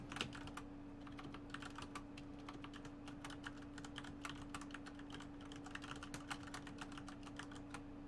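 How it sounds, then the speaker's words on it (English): Quiet, steady typing on a computer keyboard, with rapid irregular key clicks running continuously at low level over a faint constant hum. "I had to type to somebody about something."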